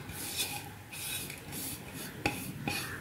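Grated coconut being worked into wheat dough by hand, soft rubbing and rasping strokes repeating close up, with a few light taps of a utensil against a bowl.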